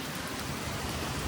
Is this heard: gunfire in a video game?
no